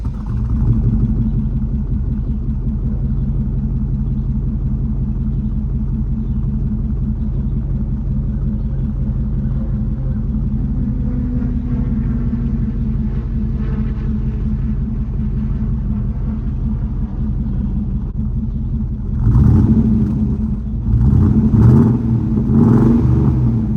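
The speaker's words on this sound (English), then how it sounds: "we're getting ready to give you a start up and let you hear it idle," A 1999 GMC Yukon Denali with an aftermarket Borla muffler and cammed engine rumbles at a steady, deep idle close up for nearly twenty seconds, then revs sharply in several quick throttle blips.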